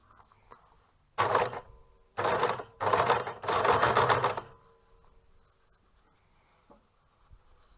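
Sewing machine stitching bias tape, with four close bursts of rapid whirring stitching separated by short pauses, then quiet.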